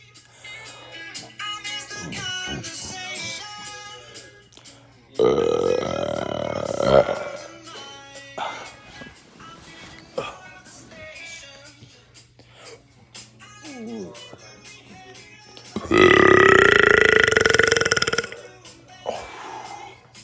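Repeated loud burps from a person, several long drawn-out belches standing out over quieter background music and chatter, with two especially strong bursts.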